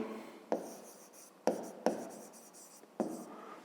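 Handwriting on paper while working a 5th-grade math exercise, four soft scratchy pen strokes at close range in a quiet room, each starting with a small tap.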